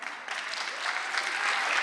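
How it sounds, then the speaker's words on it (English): Audience applause for artists at the Spokane Black Voices Symposium, brief dense clapping from a crowd that holds steady and builds slightly toward the end. "give them a round of applause"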